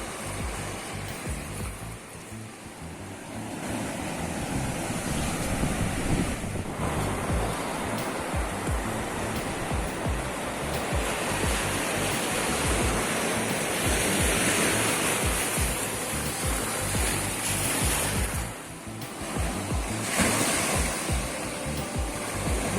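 Waves breaking on the beach at Pulau Serujung, a continuous broad roaring wash of surf with swells and brief dips, close and loud throughout, no talk.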